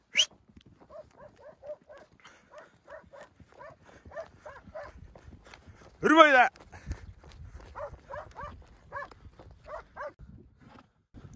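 A German shepherd herding sheep barks in a steady run of sharp, evenly spaced barks at moderate distance outdoors, broken once by a loud shouted command from a man before the barking resumes.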